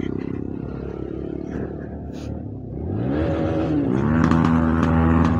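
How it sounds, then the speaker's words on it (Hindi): A motorcycle engine revving loudly and close during a night Diwali ride through a village, a steady rumble that swells and climbs in pitch partway through. "मनोज भाई की जो बाइक है ना भाई यार उसकी एक जो साउंड काफी ज्यादा खतरनाक है भाई।"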